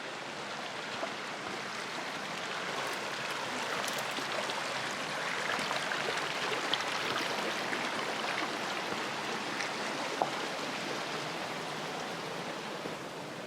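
A stream flows through an Arizona canyon valley, giving a constant, even rush of water that stays steady and moderately close throughout with no other distinct sounds.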